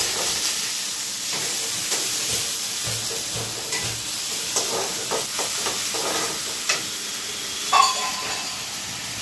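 Bata fish curry is stirred in a wok, giving a steady sizzling hiss. Scraping and knocking strokes run through it at irregular intervals, and a sharper clatter comes near the end.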